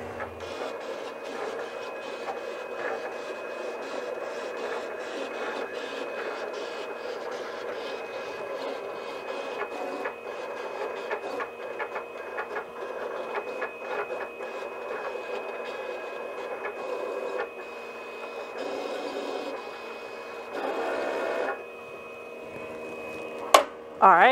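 A vinyl cutter slices Stahls heat transfer vinyl with a steady whirring drone and faint clicks as the carriage moves, close and moderately quiet, ending with a few sharper knocks.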